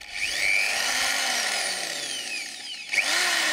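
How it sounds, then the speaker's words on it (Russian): An electric drill spins steadily during a wiper repair on a UAZ Patriot, a continuous high whine with a brief dip and restart near the end. It is close and moderately loud, with no talk over it. "это сверло не бьет"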